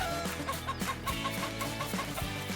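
A farm chicken clucks in a series of short, rhythmic calls, moderately near, over a soft background.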